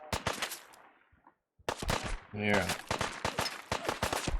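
Video game gunshots ring out in quick, loud bursts, a rapid volley at the start, a brief silence, then another burst of repeated shots mixed with an excited voice talking over them.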